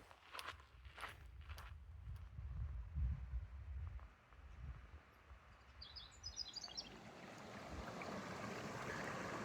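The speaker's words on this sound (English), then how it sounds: "This is Agua Caliente Creek," Water of Agua Caliente Creek on the Pacific Crest Trail rushes steadily in the background, with footsteps crunching close by early on and a bird chirping briefly over the flow.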